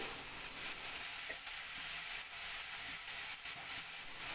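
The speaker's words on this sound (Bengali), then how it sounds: "এখন আমি এই যুক্তি ফুলগুলোকে কুমড়োর সঙ্গে ভালো করে নেড়ে চেড়ে মিশিয়ে দিচ্ছি" Pumpkin and flowers frying in a pan, a faint steady sizzle and hiss with quiet intermittent stirring scrapes, close but low in level, no voices.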